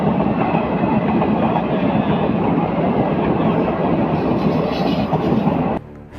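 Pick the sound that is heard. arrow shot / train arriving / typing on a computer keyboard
train arriving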